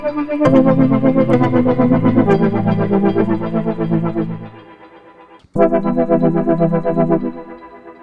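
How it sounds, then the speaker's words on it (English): Synth patches from a preset pack play as thick, effect-laden sustained chords with a chorus-like shimmer, fading briefly before a second loud chord swells in. "Like these are synth sounds."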